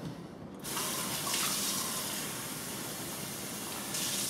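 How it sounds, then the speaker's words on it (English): Water pours steadily into a Mr Beer home brewing kit. The flow starts abruptly after half a second and becomes a close, continuous splashing gush that runs to the end with no talking. "Now our next step is to add a little bit more water."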